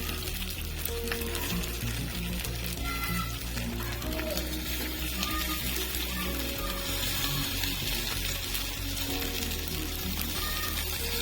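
Small snacks of semolina and raw potato frying in hot oil, a few at a time: a steady, bubbling sizzle that runs on unbroken, loud and close, with a low hum beneath and no voices.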